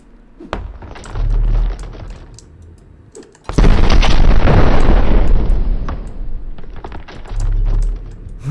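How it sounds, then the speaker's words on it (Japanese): An explosion in the first-person shooter game Backrooms Break erupts as a sudden loud boom followed by a long rumbling roar, set among scattered gunshot-like thumps and low background game noise. "爆発強いんだな"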